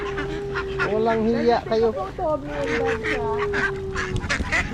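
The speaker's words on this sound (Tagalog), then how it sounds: "Those are ducks" A flock of ducks feeding, honking and quacking loudly and continuously up close, with a person talking over the calls.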